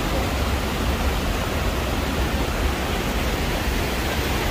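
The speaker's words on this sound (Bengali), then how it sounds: "এই যে ঝর্ণা" Forest waterfall in Italy, reached by a footbridge among wooded hills, pours out a loud, unbroken broadband rush of falling water with no pauses or other sounds.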